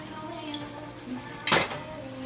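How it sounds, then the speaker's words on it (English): Chopped leeks with a splash of olive oil go into a pan in one sudden, brief clattering rush that stands out near and loud against a quiet kitchen backdrop. "Now we're going to add the leeks. And a little bit olive oil because you want more juice."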